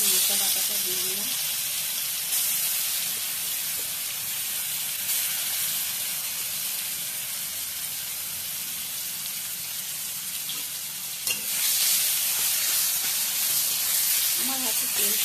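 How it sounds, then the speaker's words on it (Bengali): Banana flower paste dropped into hot oil in a home kitchen: a loud, steady sizzling hiss that holds throughout and briefly flares up again near the end. "গরম হয়ে গেছে, মোচা বাটাটা দিয়ে দিলাম।"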